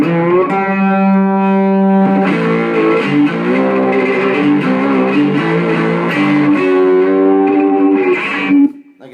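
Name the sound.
cigar box guitar played with distortion effect settings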